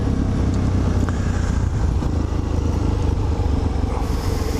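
Motorcycle ridden on an early morning commute to work, a steady loud engine drone with heavy wind rumble throughout, holding a constant cruising pace with no talking.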